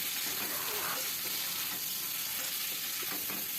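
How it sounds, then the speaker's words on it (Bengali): Taro stolons with turmeric and salt fry in oil, making a dense, continuous hiss that stays close and even, with faint stirring scrapes in the background. "আমি এটাকে ভালো করে এখন ভেজে নেব"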